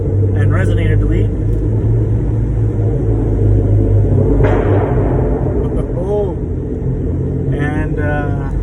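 A 2015 Chrysler 200S with a 3.6 V6 and straight-pipe exhaust, muffler and resonator removed, drones loudly with a deep steady rumble and slight shifts in pitch, heard close up throughout.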